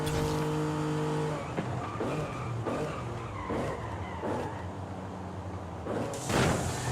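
In Forza Horizon 5, a car's engine drones as its tires squeal and skid over several seconds, ending in a louder burst of impact noise as it crashes into a Raptor.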